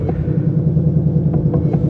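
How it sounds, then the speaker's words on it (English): From inside the cabin of a 2024 Ford Mustang GT Premium manual, the V8 rumbles in a loud, steady, deep low throb with a pulsing beat, continuous throughout and with no voices. "Yes, it's loud in the cabin, but that's why you buy a V8"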